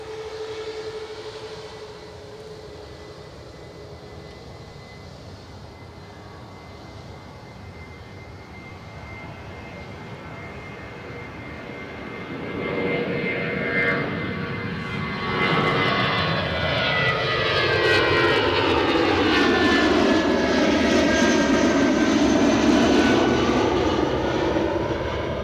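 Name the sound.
British Airways airliner rolling at Edinburgh Airport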